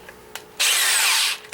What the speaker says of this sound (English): On my drill, and sand the bottom